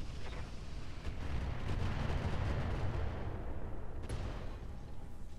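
Incendiary weapons fire and explode in the mech game Roguetech, a sustained rolling barrage of deep booming blasts with a sharper crack near the end, loud and continuous with no talk.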